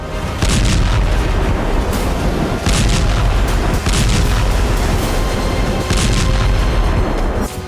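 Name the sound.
explosions in the Russia-Ukraine war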